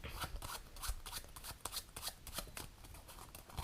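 A magician's deck of playing cards gets shuffled in a quick, faint run of riffling flutters, soft and close, with no voices over it.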